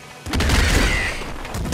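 A Cluster Launcher bomb bursts in the top-down shooter Nuclear Throne, a loud booming blast that hits suddenly and holds as a dense, rumbling crackle for over a second, with no voices.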